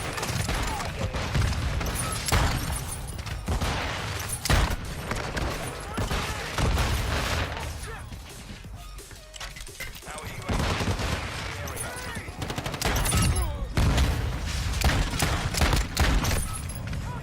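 Rapid bursts of revolver-like pistol gunfire in the engineering sandbox video game Plasma, sharp repeated shots clustered through the clip with some clattering impacts, while a person talks between and over them.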